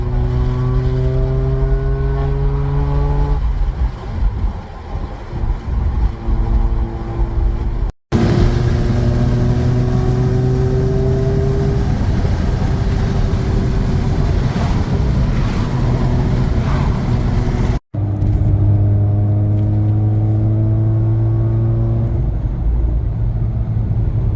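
A Mazda RX8 revs hard while driving, its engine note climbing again and again from inside the cabin. Steady wind and fan noise run underneath, with two abrupt brief cutouts.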